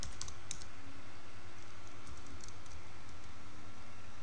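Fingers typing a Linux command on a computer keyboard, producing a quick cluster of close, light clicks early on, then a few scattered taps over a steady low background hum.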